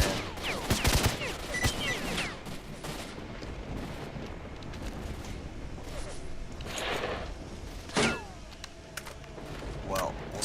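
Gunfire in the game STALKER Shadow of Chernobyl during a firefight with military remnants, with bursts and sharp single shots scattered through a busy background and someone talking over it.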